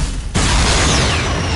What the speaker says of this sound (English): I'll shoot my guided missile at you